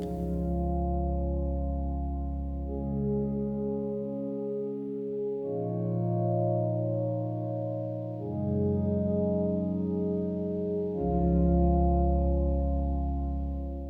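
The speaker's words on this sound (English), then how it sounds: "as you move the envelope to the right, which increases the attack time, kind of turns into a little bit of a pad sound" A distressed piano patch from the RIST instrument, set with a long attack so it swells in as a soft pad, plays slow sustained chords that fade in and change every few seconds, warm, wavering and alone.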